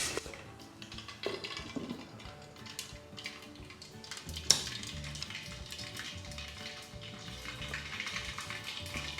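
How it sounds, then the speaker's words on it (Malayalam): Two tablespoons of mustard seeds sizzle in hot oil for a green grape pickle: a continuous close crackle and spatter with one sharp pop midway, no talking. "അപ്പോൾ എണ്ണ സൂപ്പറായിട്ട് ചൂടായിട്ടുണ്ട്"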